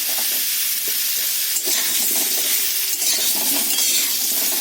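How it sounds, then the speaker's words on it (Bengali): Young jackfruit frying in oil with turmeric in a wok, a loud, continuous hissing sizzle with occasional stirring scrapes, close and steady throughout. "তারপর আমি এঁচড়গুলোকে ভেজে নেব একটু তেলে।"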